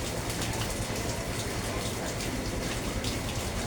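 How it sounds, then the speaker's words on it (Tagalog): Heavy rain pours without pause during a typhoon, a dense, even hiss of water that stays loud and constant from start to finish. "Dito tuloy-tuloy pa ang buhos ng ulan."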